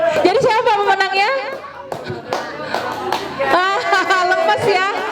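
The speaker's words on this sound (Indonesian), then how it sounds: "Mau nggak mau harus tepuk tangan." A group of students at a leadership training session claps in steady, close applause, loud hand slaps running under excited talk and children's voices.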